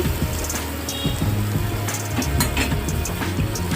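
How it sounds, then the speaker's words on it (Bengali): Oil sizzles steadily in a pan as bitter gourd fries in white oil, with scattered clinks and scrapes of a utensil against the pan. "এটা একদিকে ভাজতে থাকছি"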